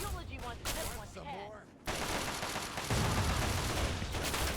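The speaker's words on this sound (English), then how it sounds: "Oh, she's actually using the drone cannon this time?" Drone cannon fire in a video game rattles as a dense, continuous burst of gunfire, loud and close, following a stretch of spoken commentary.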